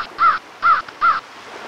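A crow caws three times, loud and close, evenly spaced with short gaps between the harsh calls, against a quiet background.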